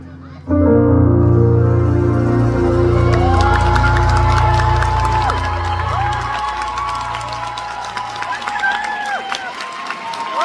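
Loud applause with cheering and whoops breaks out from the audience at a concert by Isaac Hong at a national music festival for people with developmental disabilities at COEX. It peaks early and then slowly fades, with voices calling out over it.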